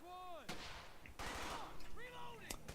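Gunfire in the WWII shooter Brothers in Arms: Hell's Highway: several sharp rifle and machine-gun bursts cracking close by, mixed with shouting soldier voices between the shots.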